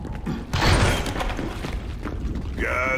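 A heavy metal door grinds and thuds open in a Gears of War 5 Hivebusters cutscene, with a deep booming clunk followed by a rising mechanical whir near the end.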